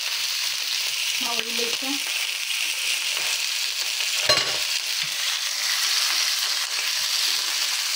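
Hot cooking oil fries and spatters continuously in a pan with a loud, even hiss, broken by a brief spoken phrase and a sharp knock partway through.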